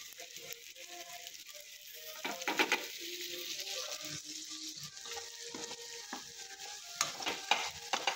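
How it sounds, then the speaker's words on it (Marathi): Onion frying in a hot pan on a home stove, with a steady sizzle and repeated scraping, stirring strokes of a spoon against the pan, close and fairly loud, no talk. "आता पुढच्या मला काय वाटतं कांदा तळूनच घ्यावा आणि मगच त्याला फोडणी."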